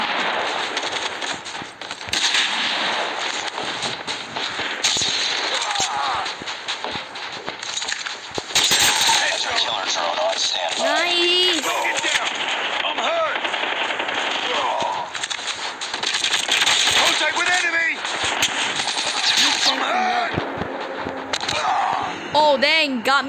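Rapid bursts of KM44 rifle fire in Call of Duty Mobile, with many short automatic volleys and other game effects, and players talking excitedly over much of it.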